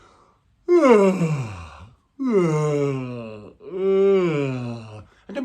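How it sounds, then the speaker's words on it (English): Three long, drawn-out yawns in a row, each a loud voiced groan that sweeps down in pitch and then fades, close up with short pauses between them. "Now, first one is to yawn."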